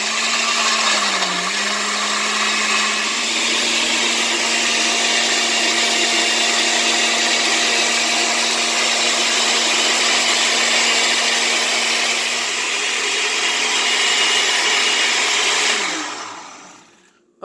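A blender juicing carrots with water on its smoothie extract setting, a loud steady motor whine running for about sixteen seconds before spinning down abruptly.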